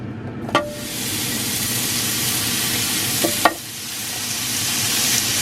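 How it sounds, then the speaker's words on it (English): Steady broadband sizzling of food frying in an electric skillet, loud and close, with a couple of sharp clinks from a utensil partway through. "ready for that sizzle?"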